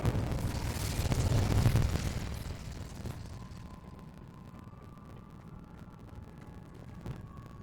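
A fiery burst from the Incendio fire spell in Hogwarts Legacy, a loud roaring whoosh for about two seconds that fades into quieter game ambience, with a faint later pop.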